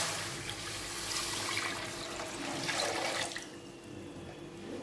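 About a litre of water pours steadily into a kadai pan, a continuous splashing rush that is quiet but fills the whole stretch with no talk over it.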